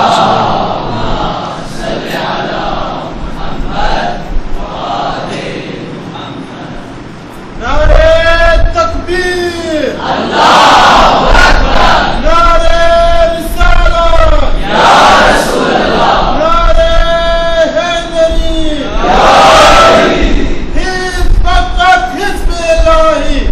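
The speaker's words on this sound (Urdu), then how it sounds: "یہ ٹائم پاس کرنے کے لیے نعرے ہیں" A large crowd at a religious lecture chants slogans in loud, rhythmic unison, each burst swelling and falling back, after a quieter opening stretch.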